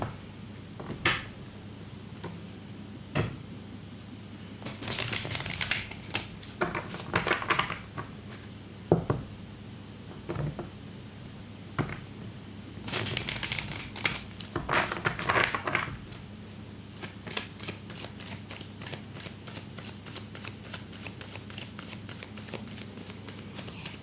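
Oracle cards shuffled by hand, steady close papery riffles and slaps with two louder bursts of rapid card fluttering, then a fast even run of flicks, with no talking.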